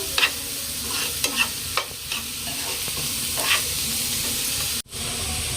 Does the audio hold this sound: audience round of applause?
no